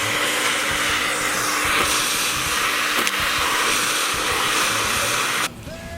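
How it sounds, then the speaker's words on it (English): A shop vac roars steadily as it vacuums debris out of an engine intake during broken fastener removal, a loud continuous rushing whine that cuts off abruptly near the end, leaving a lower hum. "since we do have a good shop vac, it's safer to vacuum all that out."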